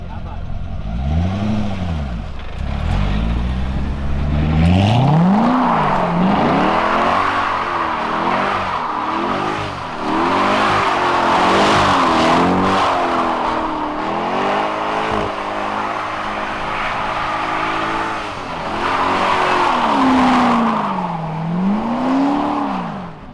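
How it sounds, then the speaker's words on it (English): V8 car doing skids and donuts, engine revving and falling in repeated swoops while the tires squeal and smoke, loud and close, with a voice talking over it. "A little skid action before we leave, and then I'll cut it off there."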